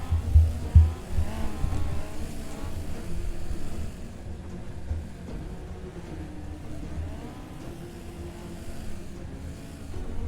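BriSCA F2 stock cars circulating during the World Final at Coventry, a dense rumbling drone of many engines at moderate distance, steady throughout with a louder stretch at the start.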